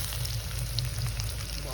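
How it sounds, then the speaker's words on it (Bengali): Onions frying in hot oil in a village kitchen pan, a steady close sizzle with a low crackling bed running unbroken throughout, no voices. "আমি এখন পেঁয়াজ দিচ্ছি।"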